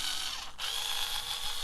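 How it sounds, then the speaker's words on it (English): A power drill bores a hole into the bottom of a painted dollar-store spring centerpiece, a steady whirring whine that runs close and alone. "I think I'm going to drill a hole into the bottom so that I can put one or two skewers there."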